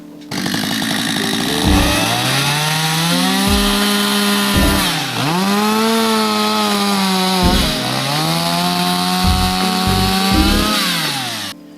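A power saw cuts through a wooden beam along a pencil line while a one-storey house with a bathhouse is built, a loud steady whine that dips and rises in pitch as the blade bites, pausing between cuts, with no voices.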